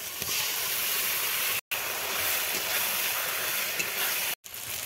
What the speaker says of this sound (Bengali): আমার মশলা ভাজা হয়ে গেছে